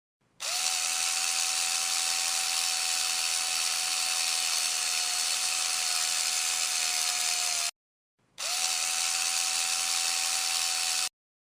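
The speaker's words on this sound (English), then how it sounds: "Grab your impact wrench and collide it with the highlighted lug nut while using it to secure it into place." A video game impact wrench tightening lug nuts on a car tire, two loud steady electric whirring bursts, a long one and then a shorter one after a brief pause, with no talk.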